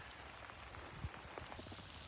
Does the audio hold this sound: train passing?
no